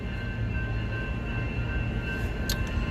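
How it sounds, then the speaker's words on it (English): An approaching train rumbles low and steady on a rail line toward an airport. A brief squeal rises near the end. "Here comes the train."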